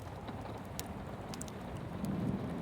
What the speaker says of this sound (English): notice the way the raindrops create tiny streams